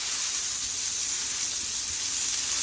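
Burger patty sizzling in hot oil in a pan, a steady close hiss with crackling spatter that holds evenly throughout.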